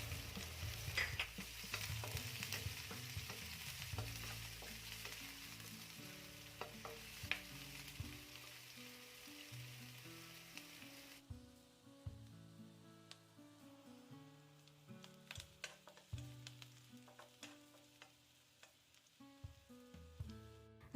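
Onion and garlic frying in a pan for pork menudo, a quiet steady sizzle with scattered stirring clicks over soft background music.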